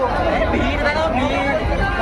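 Crowded passenger train carriage on a trip toward Tarakeswar, full of steady overlapping chatter from many voices in a dense babble with low rumbling train noise beneath.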